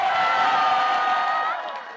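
Fans at an outdoor night concert at the Sejong and Chojeong Mineral Spring Festival shout and cheer on request, a loud, sustained crowd roar that holds steady and then fades away in the last half second.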